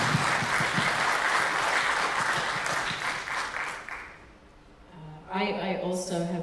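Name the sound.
audience applause for Emma Caulfield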